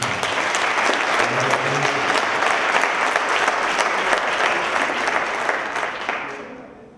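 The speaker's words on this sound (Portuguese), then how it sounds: "Dê um aplauso a Jesus por isso." A church congress crowd bursts into sustained, dense applause for Jesus, loud and steady for several seconds before fading out at the end.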